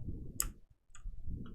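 Computer mouse clicking during work in Flash animation software, a couple of quick, faint crisp clicks with a softer one later, over a low, quiet room hum.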